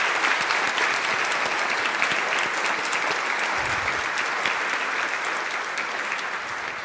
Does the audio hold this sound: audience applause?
yes